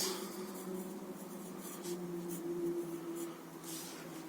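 A pen writes on paper while an ogive graph table is filled in for a class 10 maths lesson: faint, soft scratching strokes in short bursts over a quiet background hum.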